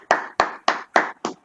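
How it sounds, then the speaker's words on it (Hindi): At a business talk honouring a speaker, five sharp, evenly spaced hand claps ring out close by in quick rhythm, each one crisp and separate, with no speech. "एक बार इनके सम्मान के लिए बहुत बहुत बहुत जोरों की तालियां।"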